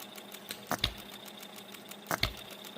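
An OKMO B02 model engine, fresh out of the box, runs with a fast, even mechanical ticking, broken by two louder knocks or pops.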